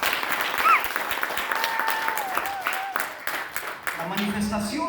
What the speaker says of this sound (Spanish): denle un aplauso a Cristo mejor